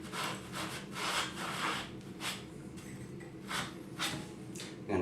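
A wet sponge rubs around a plastic pipe fitting in a series of short, close scrubbing strokes of uneven rhythm, with no voices.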